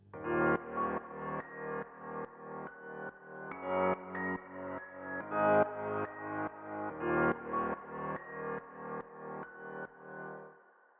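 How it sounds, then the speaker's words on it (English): Piano chords pumping rhythmically in a steady four-on-the-floor pulse, ducked by a compressor sidechained to a silent kick, with each chord swelling back after every beat; clear and upfront with no talking. "So I added a compressor and sidechained that compressor to a silent kick on pad"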